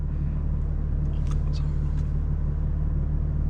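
A 900 hp 2025 BMW M4 Competition drives up a road, its cabin filled with a steady low engine and tire rumble and a few faint brief chirps.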